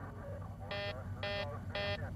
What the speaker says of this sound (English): an alarm blares in the cockpit.